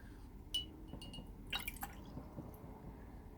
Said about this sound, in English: Now wash your brush